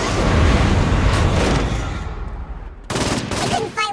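Saints Row IV gameplay with rapid gunfire and rocket blasts, loud and dense at first, then thinning before a fresh burst of shooting near the end.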